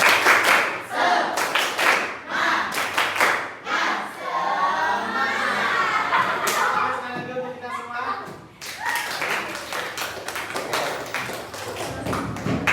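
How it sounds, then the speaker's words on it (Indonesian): Classroom group doing an Indonesian spirit clap (tepuk semangat), sharp rhythmic hand claps in bursts from many people nearby, broken by a middle stretch of chatter and calls, then clapping resumes with voices mixed in. "Oke, tepuk semangat."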